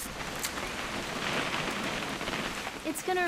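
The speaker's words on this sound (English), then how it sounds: "It's gonna rain the whole weekend" Steady rain patters continuously across a surface in the What Remains of Edith Finch video game, a dense even hiss, with a brief tonal sound near the end.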